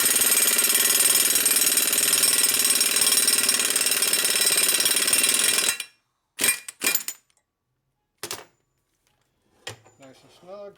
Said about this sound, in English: Should give my air impact a good workout.